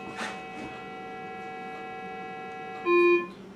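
Minelab Explorer metal detector after a factory reset giving its threshold tone, a steady faint electronic hum with a brief louder beep near the end.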